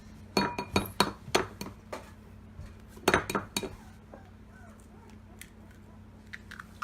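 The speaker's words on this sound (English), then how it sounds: "Every time I crack an egg." Eggshells crack and clink against a pan in a homestead kitchen, a quick cluster of sharp taps followed by a second burst a few seconds later, then quieter scattered clicks, close and crisp.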